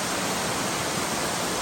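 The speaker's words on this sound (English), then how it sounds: "This is one of my favorite waterfalls." Crabtree Falls in North Carolina gives a steady, broad rushing roar of falling water, continuous and fairly close, with no voices over it.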